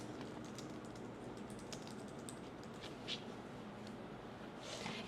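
Someone types a business name on a computer keyboard, with soft, irregular keystroke clicks sounding faintly over a steady background hush.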